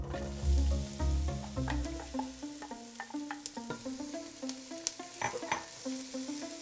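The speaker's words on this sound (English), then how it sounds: "we're just gonna put a little olive oil into our pot. And then diving right in, we're gonna add our onions and our peppers." Onions and peppers sautéing in olive oil in a pot, with a soft steady sizzle under repeated clinks and scrapes of a stirring utensil against the pot, heard up close and without speech.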